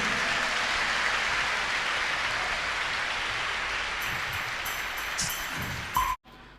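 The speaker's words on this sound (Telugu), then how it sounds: "సంతోషం అన్న వాళ్ళు గట్టిగా చప్పట్లు కొట్టండి" A large audience at a Christian gathering honouring a bishop claps loudly, dense sustained applause that fills the room for about six seconds before stopping abruptly.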